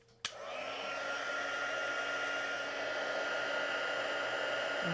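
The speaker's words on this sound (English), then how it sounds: "Get my heat gun here." A heat gun switches on and blows hot air steadily and loudly to set gold embossing powder on a craft piece, a continuous close hiss with no talking.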